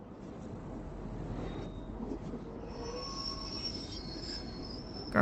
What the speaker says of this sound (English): Sounds like brakes. That's a train crossing.